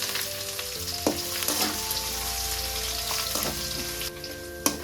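Crushed garlic sizzles in hot oil for Tamil tomato thokku, a constant close frying hiss punctuated by several spoon clicks against the pan over a faint steady hum.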